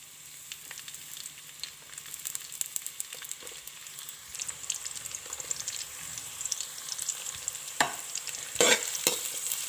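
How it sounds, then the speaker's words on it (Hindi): Carrots stir-frying in oil in a kadai (wok), a soft continuous sizzle with scraping and clattering stirring strokes that grow busier and louder toward the end. "हल्का सा फ्राई करेंगे इन्हें।"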